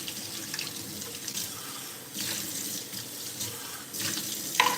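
Dishes being washed under a running kitchen tap give a steady hiss of flowing water with soft clinks and splashes, rising slightly toward the end.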